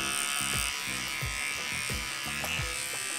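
Electric hair clippers taper the hair at a client's neckline and around the ear, giving a steady close buzz with repeated dips and pulses as the blades pass through the hair.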